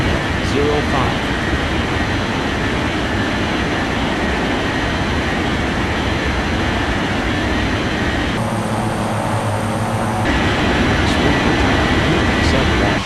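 An airliner takes off in an air traffic control video game, a steady broadband engine roar that holds at constant loudness throughout, with a brief change in tone partway through.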